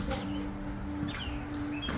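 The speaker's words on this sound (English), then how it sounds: "there are a lot of birds I can hear in the distance making noises too" Distant birds call during a solar eclipse, a few faint cooing and chirping notes scattered over steady background noise.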